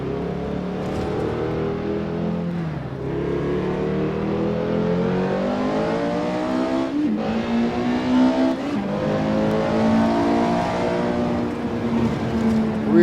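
A small car engine in the racing game Assetto Corsa, revving up and down continuously and loud, with rising and falling pitch and gear changes, with no talk.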